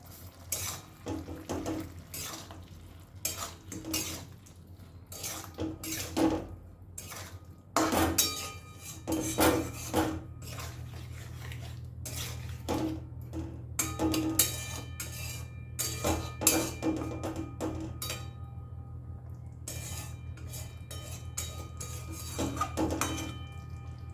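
Pumpkin curry is stirred in a pan with sugar added, giving scattered metallic scrapes and clinks of a utensil against the pan over a low steady hiss, close and intermittent.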